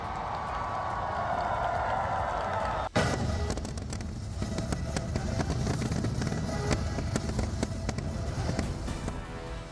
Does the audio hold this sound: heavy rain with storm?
no